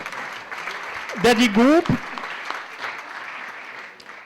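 A French audience at a fintech labelling event for the banking sector claps for a presenter introduced as founder and president, a short burst of applause under a speaking voice.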